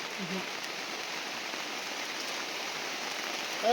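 Steady rain patters on a surface, a soft even hiss throughout with a brief voice at the start and end.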